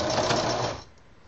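A sewing machine runs in a steady dense whir while backstitching and then stitching forward to lock the seam on shorts being turned into a skirt, close and loud, then stops abruptly near the end, leaving quiet room noise.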